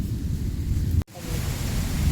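Steady rain falls outdoors under a mango tree in a rural setting, a dense continuous wash with low rumbling that suggests distant thunder, broken by a brief cut near the middle.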